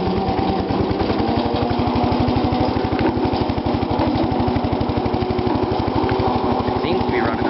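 A small engine with a throttle runs close by with a fast, steady putter. It stays loud and even from start to finish, and a person talks over it.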